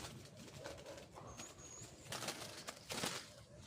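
Doves near a house give soft, faint coos and rustles outdoors, with a brief flurry of wing flaps against quiet background noise and no talking.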